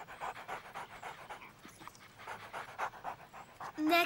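Two dogs out on a walk pant steadily and quietly in quick rhythmic breaths, close by, with a brief higher whine near the end.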